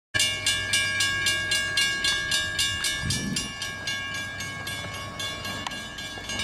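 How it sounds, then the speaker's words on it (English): A passing train near a walking route, heard as a steady clickety-clack rhythm with a horn-like tonal drone running through the whole stretch, loud and close without any talk. "there's a train coming"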